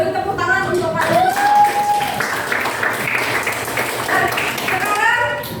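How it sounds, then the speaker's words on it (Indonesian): Classmates clap for student group presentations in a classroom, a burst of applause that runs under a teacher's voice speaking over it. "Beri tepuk tangan untuk kalian."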